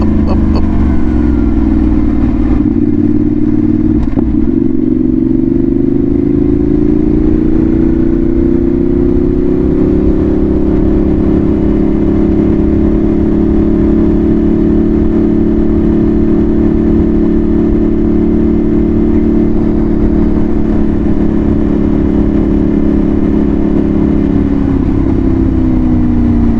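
A car drives along and turns around in a church parking lot, its engine a loud, close, steady hum that climbs and dips in pitch as it slows and pulls away, with no talking.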